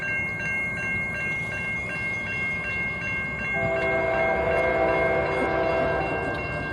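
A train rumbles past a road crossing on Dixie Highway, steady and loud, while a crossing bell rings in regular pulses and a second sustained horn-like tone joins partway through.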